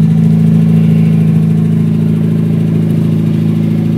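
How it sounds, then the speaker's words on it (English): A bagged mini truck engine, unstarted for two months, runs with a loud, steady, low mechanical drone and slight revving, close by, with no talking. "This is the first time I've started my truck in over 2 months."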